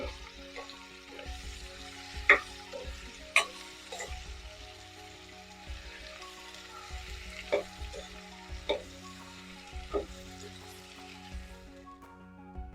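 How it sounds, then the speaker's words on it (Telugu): Yam pieces fry steadily in a pan for a yam tamarind curry, a continuous sizzle broken by a few sharp clinks of a stirring spoon against the pan. "ఈ ముక్కలు వేగుతూ ఉంటాయమ్మా"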